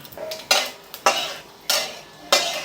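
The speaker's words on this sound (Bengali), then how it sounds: "ফোড়নের জন্য দুটো শুকনো লঙ্কা দিয়ে দিলাম আর এখানে একটা বড় এলাচ আর ছোট এলাচ গুঁড়ো করে এর মধ্যে দিয়ে দিলাম" Four brisk, loud scraping strokes of a spatula in a pan follow a steady rhythm as dried red chilies and crushed black and green cardamom fry in hot oil for tempering, with a light sizzle between strokes.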